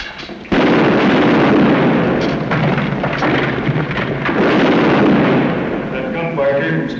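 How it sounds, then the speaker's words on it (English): Video game battle sounds of gunfire and artillery roll on continuously at loud volume, with dense booms and cracks building after a short quiet start and layered rumble throughout. "That gunfire came from straight ahead."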